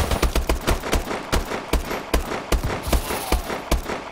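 Rapid bursts of light machine gun fire from a video game shooter in a search-and-destroy match, loud, close, sharp shots in quick rhythmic volleys with no speech.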